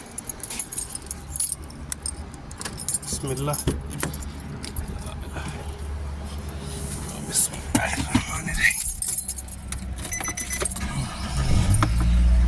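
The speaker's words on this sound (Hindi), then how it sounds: "चलिए हम अब गाड़ी स्टार्ट करते हैं।" Car keys jangle repeatedly near the vehicle while someone speaks quietly, then the engine cranks and rumbles to life in the last seconds, growing louder.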